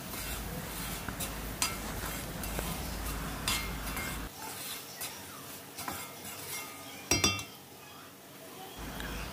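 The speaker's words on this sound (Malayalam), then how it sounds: "ഒന്നുകൂടെ വഴറ്റിയെടുക്കാം." A spoon stirs previously sautéed onion and capsicum around a pan for kadai paneer, with light scraping and clinking of metal on cookware and a faint background hiss, plus one sharper clatter near the end.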